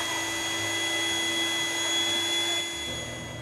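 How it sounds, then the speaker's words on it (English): An electric tomato press separating boiled tomatoes into pulp, seeds and sauce runs as a steady, close mechanical whine with a constant motor tone, easing slightly lower near the end. "the tomato press that separates the pulp, seeds,"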